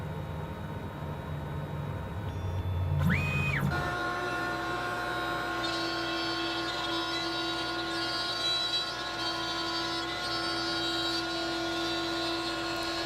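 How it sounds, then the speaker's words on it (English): CNC machine spindle cutting box joints in plywood: a brief rising whine as it spins up, then a steady high-pitched hum with constant machine noise, moderately loud and unbroken, with no talk. "I'll set my Z-axis height and we're ready to start cutting."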